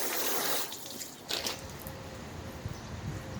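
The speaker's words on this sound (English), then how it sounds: "we can kind of see when we try to flood the panel" Water flooding over a car's painted panel coated with an SiO2 sealant, a broad hissing spray at first that drops to a softer running trickle with a few small splashes.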